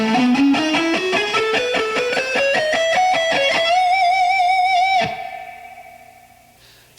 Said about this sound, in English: The third part of the riff sounds like this.